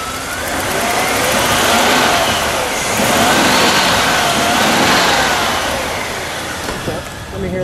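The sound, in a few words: 1994 Bentley Continental R turbo engine revving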